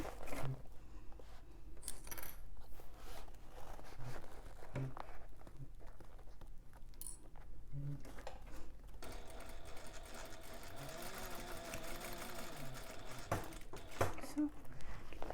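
A sewing machine hums and rattles through fabric in bursts, with small clicks and handling noises between runs, fairly close and clear.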